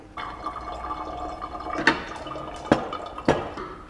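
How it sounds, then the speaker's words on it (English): Boiling water poured to rinse a paper filter in a V60 dripper above an ice-filled carafe, a soft steady pouring wash with three sharp clinks or drips near the end, close and fairly quiet. "Just going to give that a quick rinse"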